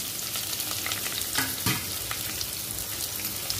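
Garlic, curry leaves and chopped onion fry in a pan for a squid masala, giving a constant close sizzle and crackle with occasional stirring scrapes, and no voices.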